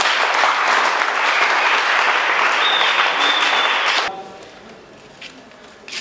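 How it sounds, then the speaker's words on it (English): An audience at a Mwaghavul cultural symposium in Mangu applauds quiz winners, with loud, dense clapping for about four seconds that stops abruptly. Quiet room noise and a few faint sounds follow. "I think we need to clap for them."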